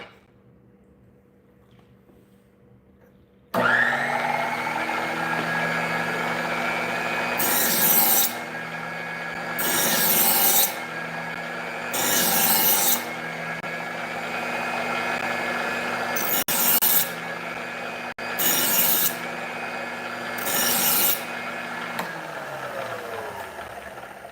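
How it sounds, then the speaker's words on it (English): Knife blade drawn repeatedly through a knife sharpener, a steady rasping scrape with about six louder pulled strokes in a regular rhythm, close and clear with no talking. "pay attention to how different it sounds as I pull the knife through"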